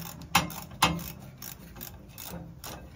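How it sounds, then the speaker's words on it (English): A ratchet wrench loosens a bolt on a 2003 Cub Cadet LT2180 riding mower, giving sharp close clicks and a run of softer ratcheting strokes in an irregular rhythm, with no talk. "Then I use a wrench head on that."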